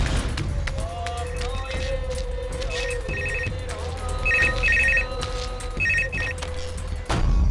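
An old-style telephone bell rings in repeated double bursts, fairly close, over a busy background with a low hum and some movement, in a dubbed South Indian action film scene.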